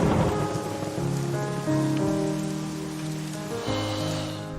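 Heavy rain pours steadily in a storm as thunder rumbles beneath it, loud and continuous with no voices.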